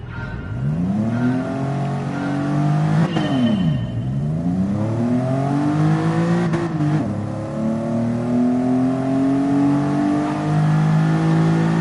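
A racing video game car engine drones and revs continuously up close, its pitch climbing through each gear and dropping sharply at two shifts, with no talk over it.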